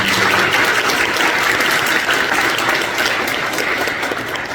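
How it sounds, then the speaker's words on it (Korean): A church congregation at a special early-morning prayer service applauds together, a thick, sustained burst of close clapping from many people that stays loud across the clip before easing slightly at the end. "너무 고생 많으셨다고 박수해 주시면 감사하겠습니다"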